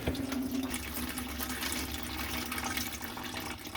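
Oil draining from a 7.3L Power Stroke diesel oil cooler during removal, a steady close splashing pour that runs continuously without a break.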